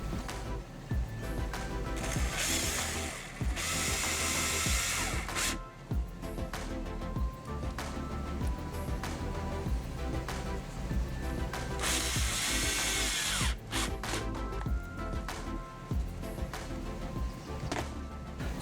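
Phillips screws being driven into a GMC Yukon / Chevy Tahoe third brake light housing, with repeated ratcheting clicks and tool whirs in bursts, close and moderately quiet, no speech.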